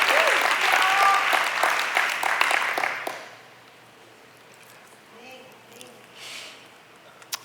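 A church congregation claps loudly and steadily for about three seconds, then the applause cuts off into a quiet room with faint murmurs.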